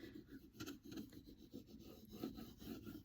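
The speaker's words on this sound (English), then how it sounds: "I have a little tool here that I use to rub it on" A small tool rubs paint onto a Dollar Tree craft piece for a floral shelf sitter, giving a faint, close, steady rasping scrape in short repeated strokes.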